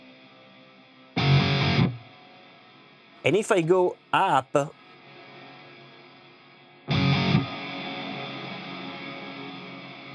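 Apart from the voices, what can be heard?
electric guitar through Aurora DSP Kobraa crunch amp plugin with reverb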